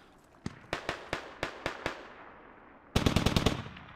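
Automatic cannon fire from a BTR armored vehicle in the military shooter game Squad: spaced single heavy shots, then a rapid loud burst near the end, with no voices.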